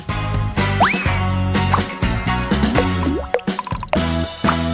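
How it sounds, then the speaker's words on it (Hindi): Water poured and dripped into gelatin and dye: close plops, splashes and drips, some with springy rising and falling tones, loud and busy, with no speech. "फिर थोड़ा पानी मिलाऊंगा और बेशक डाई।"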